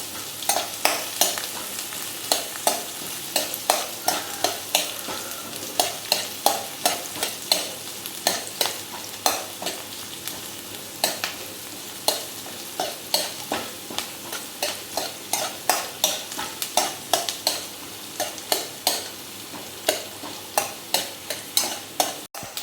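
Onions are frying and being stirred in a pan for a home breakfast, a steady sizzle broken by regular scraping strokes of a spoon, close and continuous, with no voices.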